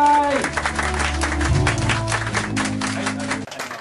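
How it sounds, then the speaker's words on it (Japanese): An audience applauds as an amateur band of middle-aged office workers comes on stage at a music store contest, steady clapping over sustained amplifier hum and tones, ending abruptly after a few seconds. "皆様大きな拍手でお迎えください"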